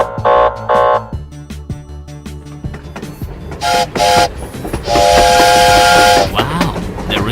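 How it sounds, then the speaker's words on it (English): A cartoon train with a steam whistle sounds several loud whistle blasts, two short ones at first and then a long sustained one, over rhythmic rail clatter. "Wow, there is a train nearby."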